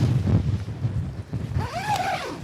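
Strong, gusty wind roars around a tent pitched in the Scottish Borders, a steady loud rush of air with a brief whistling tone rising and falling near the end.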